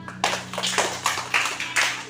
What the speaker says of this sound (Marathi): प्राथमिकसाठी टाळ्या वाजवा